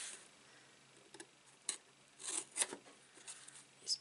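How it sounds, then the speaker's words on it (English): Sharp paper cutting while trimming designer series paper for a vintage-style stationery box, a few quiet snips and rasping slices in short irregular bursts with faint ticking handling between them, close and alone without talk. "Let's see if I can trim this."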